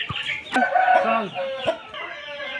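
A white rooster crows and clucks up close: a loud harmonic call with a few sharp cluck-like bursts, fairly near and clear.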